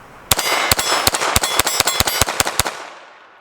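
An FN 502 Tactical pistol fires CCI AR Tactical .22lr rounds in a rapid string of about a dozen sharp, loud cracks at an even pace, ending with a short fading ring.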